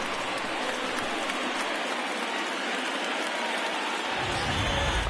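Baseball stadium crowd of over 39,000 on their feet cheering as Cleveland faces its final strike: a broad, continuous roar of cheering and clapping, steady and loud throughout, with no clear talk.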